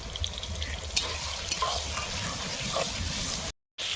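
Garlic and ginger paste frying for a country-style chicken curry, cooked over an outdoor clay stove at a winter picnic: a steady close sizzle with stirring scrapes, cut by a brief gap of silence near the end.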